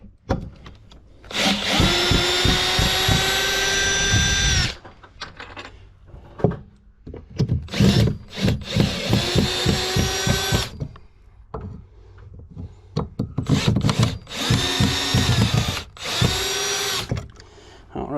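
A power drill drives big screws while compressed air lines are mounted, whirring loudly and close in several long bursts and short pulses separated by pauses.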